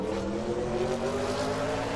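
NASCAR race cars accelerating off the start at Bathurst in a video game, a dense, steady roar of engines with rising tones as they build speed, loud and continuous.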